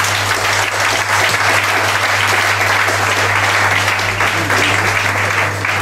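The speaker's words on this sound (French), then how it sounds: "Monsieur Yavo Kodiane Charles, que je vous prie d'applaudir" An audience at a restored Bible dedication ceremony in Grand Morie applauds loudly and continuously, a dense, even roar of clapping over a steady low electrical hum.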